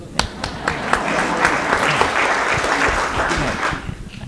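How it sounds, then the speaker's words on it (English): Audience at an Ojai Chautauqua talk event applauding, a dense, steady wash of clapping sustained throughout with a few sharper claps near the start. "I'll give you a round of applause."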